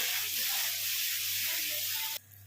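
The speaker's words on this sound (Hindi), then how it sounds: "मसाले को हम मीडियम टू हाई फ्लेम पे चलाते हुए भून लेंगे।" Spice masala sizzling and frying in oil while being stirred over a medium-high flame for an aloo, capsicum and onion curry, a steady close hiss that cuts off near the end.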